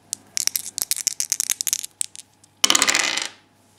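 Two dice clatter and bounce across a table for a damage roll in a tabletop game, a quick run of sharp close clicks followed by a louder rattling slide that settles.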